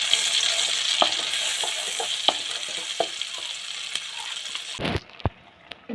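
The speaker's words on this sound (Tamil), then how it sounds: "இந்த ஆயிலில் நம்ம அரைச்சி வச்சுருக்க ஒயிட் பேஸ்ட்டை போட்டுக்கலாம்." Ground white cashew paste frying in hot oil, a loud steady sizzle with occasional spoon clinks against the pan, the hiss dropping off abruptly near the end after a sharp scrape.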